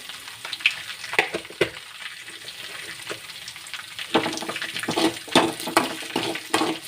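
Cumin seeds crackle and fry in hot oil in a home kitchen, a steady hiss broken by scattered sharp pops that thicken toward the end, with no talking.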